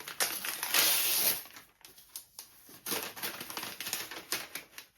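A wrapped paperback book is unwrapped at close range with crinkly tearing and rustling in irregular bursts, one louder rip near the start and then patchy crackles. No one speaks.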